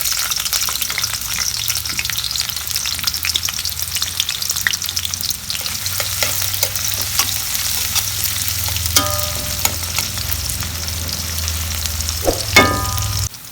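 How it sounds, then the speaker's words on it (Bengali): Sliced onions frying in hot oil in a kadai for a rohu fish and pointed gourd curry, a steady loud sizzle throughout with occasional clinks of a spatula stirring near the end. "তেল গরম হয়েছে, পেঁয়াজ দিয়ে দিচ্ছি।"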